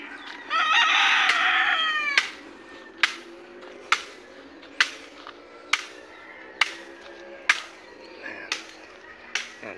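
Rooster crowing loudly near the start, then a string of sharp, evenly spaced clucks from chickens close by, with faint background murmur.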